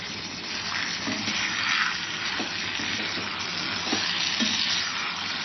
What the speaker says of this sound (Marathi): आता चिकन टाकून घेतलं आपण. हे छान परतून घ्यायचं तेल सुटेपर्यंत.